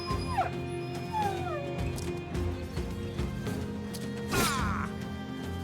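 War dog in the Battle Brothers video game with the Legends mod, giving a couple of sharp yelping barks and whimpers over busy battle sound effects, moderately loud.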